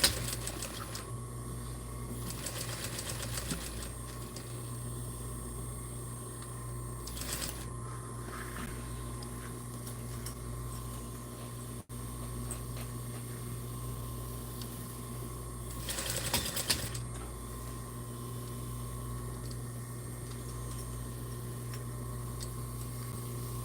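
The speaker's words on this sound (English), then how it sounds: "I'm going to sew this and then turn it and see what happens" A sewing machine stitches fabric with a steady, close mechanical whir that runs the whole time, swelling into brief louder bursts now and then. No one speaks.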